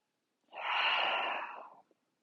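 One long, audible breath during a slow yoga breathing exercise, drawn in through the nose and then released as a soft sighing exhale, close and alone against silence for well over a second.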